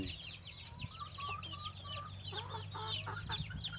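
Chickens clucking steadily at a farm during a long holiday, a busy overlapping chatter of short clucks at moderate distance over a low, constant background hum, with no talk.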